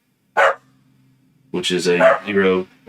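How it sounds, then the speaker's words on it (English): A pet dog gives one sharp bark near the microphone, followed after a pause by someone speaking close by. "So that was my dog."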